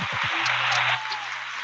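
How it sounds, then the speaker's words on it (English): Studio audience applause on a sports talk show, a dense wash of clapping that swells for about a second and then settles into a steady, slightly softer patter, with a voice briefly heard at the start. "go ahead and give me a round of applause, please"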